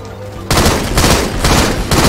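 Gunfire in Halo 2 multiplayer, a loud sudden burst of shots that opens into rapid repeated firing, close and dominant.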